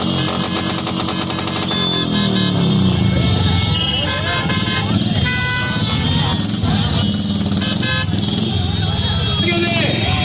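Motorcycles revving and horns honking at a Congress election bike rally and road show through town streets, a loud continuous roar with repeated toots and crowd voices mixed in.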